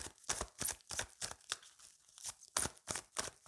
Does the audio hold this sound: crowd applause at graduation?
no